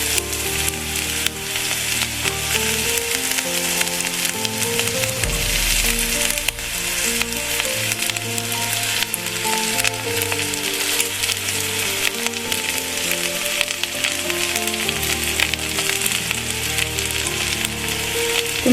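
Garlic and green chillies frying hard in a pan for an okra chutney, a loud, dense and continuous sizzle that crackles without letup, no voices over it.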